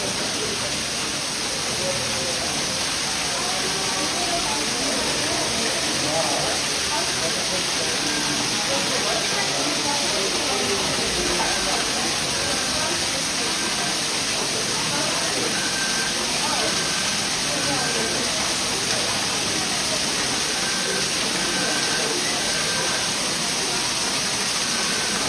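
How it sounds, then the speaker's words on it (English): A waterfall splashes inside an artificial rock cave at Disneyland, giving a steady, broad rushing wash that continues throughout. Talk and crowd chatter run underneath it. "Sounds like we're in Hawaii with a waterfall here."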